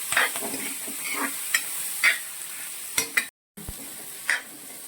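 Chicken curry frying in a pan with curry leaves, a steady sizzle punctuated by repeated scraping and clanking stirs of a spatula, with a brief dropout partway through.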